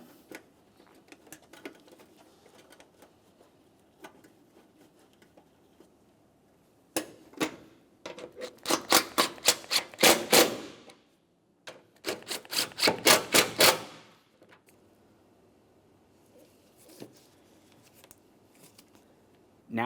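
Headlamp mounting bolts being threaded by hand into the bracket of a 2006-2011 Honda Civic: two close bursts of rapid, evenly spaced ratcheting clicks, loud and alone, with quieter fiddling before and after.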